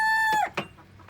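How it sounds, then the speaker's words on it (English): Chickens in a farm chicken coop, where a broody hen sits on her eggs: a sustained, tonal call followed by a couple of short, sharp clucks, close and clear with no talk. "we have a broody chicken, which means she is in here and she is sitting on her eggs"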